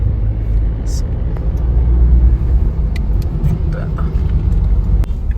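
Car cruising on the road during a family trip through Konkan, a steady low rumble of engine and tyre noise with voices talking intermittently over it.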